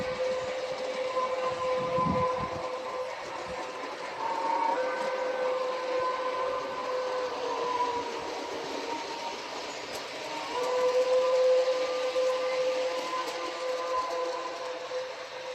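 A model train running on an outdoor deck sounds its whistle in long steady tones over a continuous rolling rumble, with a steady level throughout.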